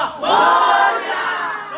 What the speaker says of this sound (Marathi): गणपती बघायला गर्दी बघा.